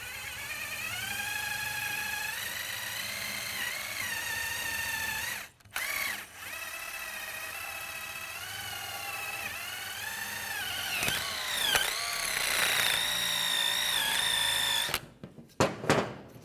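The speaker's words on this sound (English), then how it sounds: "Now we're going to clean up the bracket. Just use a wire brush." A wire brush scrubs rust and corrosion off the front brake caliper bracket of a 2004-2010 BMW X3 in a long, continuous rasping run, broken by a few short pauses, with no talking.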